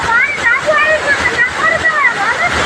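Steady, heavy rush of rain and flowing water fills the background while a person talks over it throughout.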